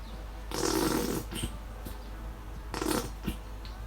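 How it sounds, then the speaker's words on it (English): Two rough, sputtering squirts from a squeezed yellow mustard bottle, made while mixing a pasta salad dressing: a longer burst, a pause, then a shorter one, close and fairly loud with no talk. "And sorry about the farting noise."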